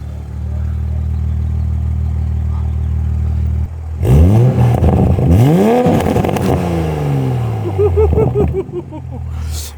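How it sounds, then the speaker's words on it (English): Toyota Supra with an RK titanium exhaust and catless downpipe idles loudly, then blips the throttle in several sharp revs that rise and fall, close and raw, with a brief idle settling between bursts. "let me get an exhaust clip real quick"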